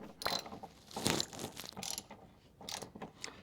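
Ratchet turning a bolt on a Dodge Charger under restoration, a close series of quick clicking pawl bursts with short pauses between strokes.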